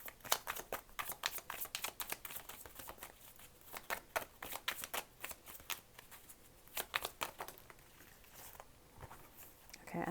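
Tarot cards being shuffled by hand: quick, close papery riffles and flicks in clustered bursts, fairly quiet, continuing over roughly ten seconds with a few pauses.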